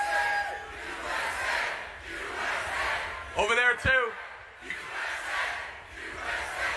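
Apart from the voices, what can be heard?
crowd chanting USA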